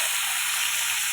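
Potatoes dropped into a hot pan of reddened onions give a steady, loud, continuous sizzle and hiss throughout, with no voices.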